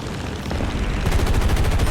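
Eight .50 caliber machine guns on an XP-55 fighter in War Thunder open up in a dense, rapid burst that builds after a brief rumble, loud and close, continuous to the end.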